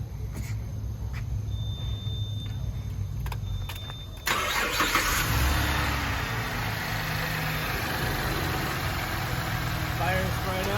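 A 2012 Chevrolet Camaro engine cranks and catches midway through, jumping to a steady, close idle after a quieter stretch of room noise with a few clicks beforehand.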